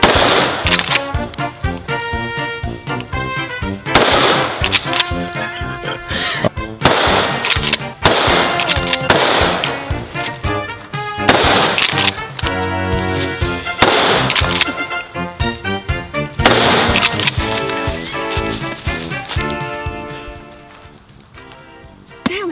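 Shotgun blasts fired to burst open Coke cans, several sharp booming shots spaced every few seconds over steady background music.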